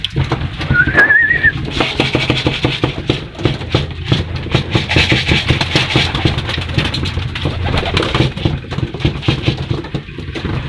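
Racing pigeons cooing in a loft, a soft repeated murmur under a steady engine-like hum, with a brief whistle early on.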